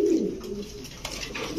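Pigeons in a bird shop give a soft, throaty coo, one brief call close by over a faint background murmur.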